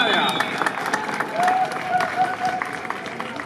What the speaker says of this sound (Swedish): Vi ger en stor applåd för Christian Anttila.